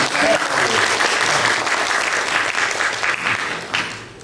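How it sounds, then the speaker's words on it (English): A church congregation applauds their organist on a Sunday morning, a dense, steady wash of clapping that stays loud and even before thinning slightly toward the end. "Can we give her a little applause here this morning?"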